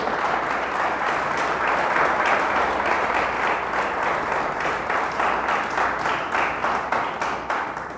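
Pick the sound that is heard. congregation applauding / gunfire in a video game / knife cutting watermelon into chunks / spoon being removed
congregation applauding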